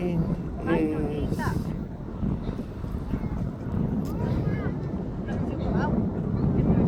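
A Jet2 airliner arriving at Birmingham International Airport gives a steady, distant broadband roar with some wind buffeting, constant throughout.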